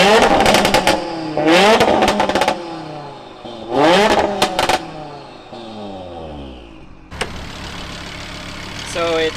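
Built 900 hp Audi TT RS with an IROS 850 kit, revved in sharp bursts with rising and falling engine sweeps, then a starter crank near the end settling into a rough, clattery idle.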